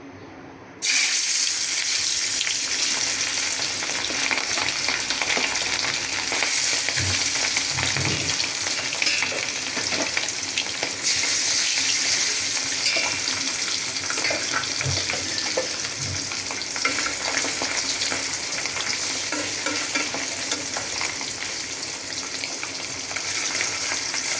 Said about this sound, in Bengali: এই যে কড়াই গরম হয়ে গেছে আমি মাছ দিয়ে দিই